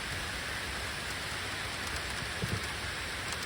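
Rain drums on the thin lid of a Layens beehive outdoors, a dense, even hiss of close drops lasting several seconds with no speech.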